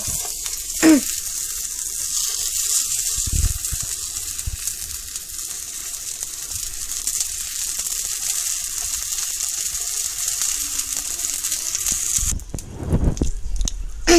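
Corn kernels sizzle in a pan over very low heat while making Korean mayak corn, giving a steady, close frying crackle and hiss that runs throughout with a few stirring and scraping knocks.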